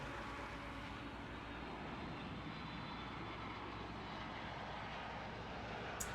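Inside the cabin of a Boeing 767 airliner landing at Oahu, a loud, steady roar of engine and airflow continues unbroken, with no talking.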